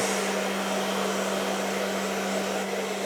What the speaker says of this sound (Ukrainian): Буду сушити феном собі штани